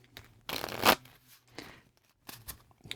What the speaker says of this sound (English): let's give these a quick shuffle here